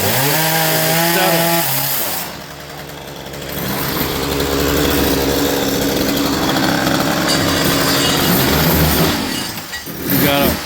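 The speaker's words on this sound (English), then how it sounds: "a machine here that attaches to our chainsaw and allows us to cut a straight line" A loud chainsaw roars continuously up close as it cuts into a log wall, its engine pitch dropping briefly before surging back to a steady whine.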